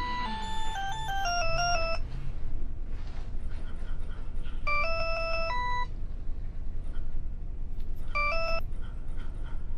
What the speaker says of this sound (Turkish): Ben bari açayım şu telefonu da.